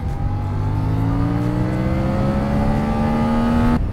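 A CFMOTO 450CL-C parallel-twin motorcycle engine revs in one smooth, steady climb for about four seconds, its pitch rising the whole way before it cuts off abruptly.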